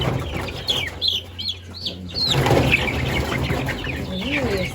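Young chicks cheeping in a close chorus of high, rapid peeps, with some deeper clucking from older birds and a brief rustle of wings.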